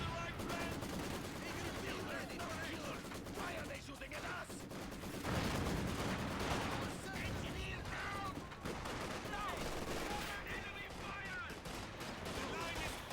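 Dense, continuous machine gun fire from an MG42 bunker in Company of Heroes 2, with rapid overlapping bursts and battlefield gunfire running throughout at steady loudness, a voice talking faintly beneath.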